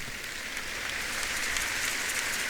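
A church congregation applauds the Lord, a dense, steady wash of clapping from many hands, loud and continuous without pause.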